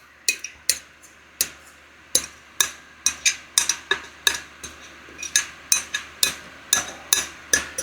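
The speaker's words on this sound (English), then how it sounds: "I'm gonna take the leftover out of this bowl, dump it right on top." A metal spoon scrapes and taps against a bowl while clearing out leftover catfish marinade, giving a steady run of sharp, close clinks and knocks at an uneven rhythm.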